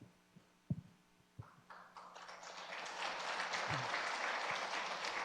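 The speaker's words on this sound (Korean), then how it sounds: "박수해 주시고" Following a few faint thumps and shuffles, a church congregation at a pastor ordination and elder installation ceremony breaks into applause that swells and holds steady, filling the room to the end.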